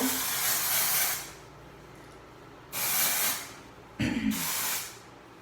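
Dry shampoo sprayed onto hair from an aerosol can, three separate hissing bursts of about a second each, close and clear with quiet pauses between them.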